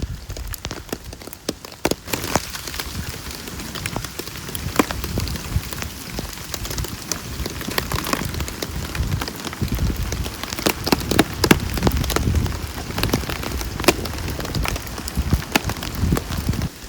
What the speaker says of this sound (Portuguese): A água vai escorrer e pingar aqui toda nesta zona.